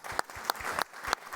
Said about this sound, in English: Sorry, yes, round of applause.